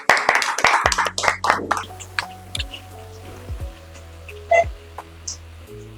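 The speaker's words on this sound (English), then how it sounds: "So give a round of applause for our first candidate." A small audience at a school English speaking and writing competition claps for the first student candidate, a brief burst of close, sharp hand claps in the first second or so thinning to scattered single claps over a steady low hum.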